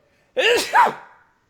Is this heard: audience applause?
no